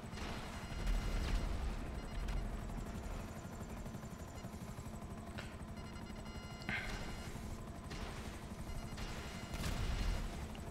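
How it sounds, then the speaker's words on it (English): Gunfire from a Khinjali armored vehicle in GTA 5, intermittent bursts over a steady helicopter drone, heard at moderate distance and fairly faint. "Khinjali's shooting at me."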